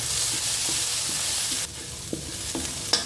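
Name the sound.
sautéing brinjals with minced chicken and dried shrimp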